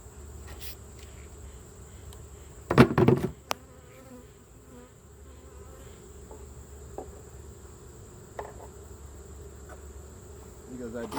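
Honeybees hum softly and continuously around an open hive during an inspection, punctuated by one sharp close knock-and-rustle burst early on and a few faint taps later.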